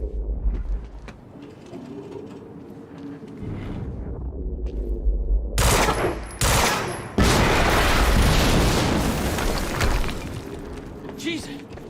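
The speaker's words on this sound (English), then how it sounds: "HQ, we just heard an explosion near the harvesting perimeter." A loud explosion in the video game Quantum Break bursts out mid-scene, followed by sustained roaring debris and crackling noise that stays loud and close, with quieter ambient game sounds before it.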